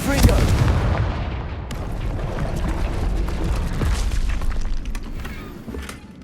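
A Confringo blasting curse in Hogwarts Legacy erupts in a loud, booming explosion with a sharp initial crack, followed by a sustained rumbling roar and scattered debris crackle that slowly fades.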